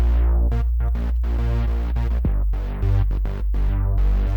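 A bass line sits under synths in a produced song, with a steady low throb beneath rhythmic chopped chords. Loud and continuous throughout, no voices.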